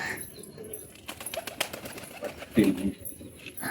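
Fantail pigeons coo softly nearby, with a brief flutter of wings and light background noise.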